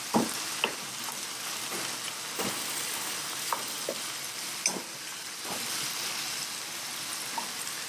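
Minced tomatoes fry in a pan with a constant soft sizzle while a utensil stirs and scrapes through them in scattered, irregular taps.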